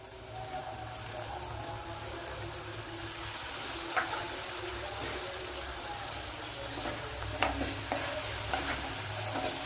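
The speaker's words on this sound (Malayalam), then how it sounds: "ശകലം കായപ്പൊടിയും കൂടെ കുറച്ച് പുളിവെള്ളം ചേർത്ത് കൊടുക്കാം" Asafoetida and tamarind water go into a papaya curry in a pan, giving a continuous bubbling sizzle with occasional stirring scrapes and soft clinks, heard close and steady.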